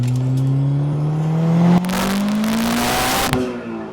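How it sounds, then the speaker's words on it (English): Honda S2000 exhaust heard while driving, a steady droning engine note that rises in pitch under acceleration and is broken by two sharp gear-shift bursts, recorded close and loud. "It's just going to pick up the exhaust sound."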